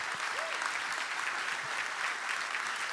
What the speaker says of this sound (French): Vraiment, je vous demande de les applaudir.